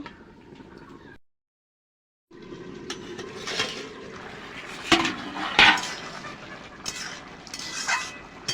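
A spoon scrapes and clinks against a pot of potato and pointed gourd curry, with a brief silence before more stirring and a lid clattering on, close and moderately loud.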